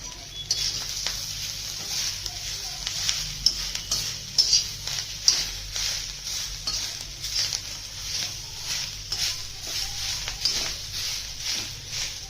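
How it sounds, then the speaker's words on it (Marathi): Green chilies, tomato and coriander sautéed in a pan for a brinjal curry with dried fish, a steady sizzle under repeated scraping and clinking stirs of a spoon against metal. "हिरव्या मिरच्या टॉमॅटो आणि एक मोठ कोथिंबीर यातच परतून घ्यायची छान"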